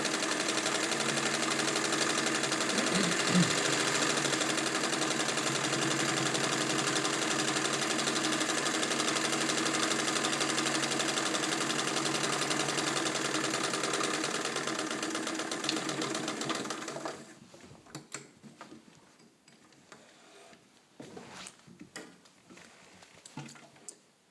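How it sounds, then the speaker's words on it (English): A Singer 66-18 Centennial sewing machine with crinkle finish runs a short, fine straight stitch, a loud steady close whir with rapid ticking for about seventeen seconds, then stops, leaving scattered handling clicks. "I want to shorten my stitch, and let's take a look at what the little short fine stitch looks like"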